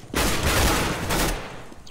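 Gunshots in Counter-Strike: Global Offensive, a loud, close volley of shots packed together into a dense roar that holds for about a second before fading to a softer tail.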